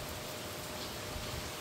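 Steady rain falls during a typhoon, a dense, even hiss of drops with no pauses.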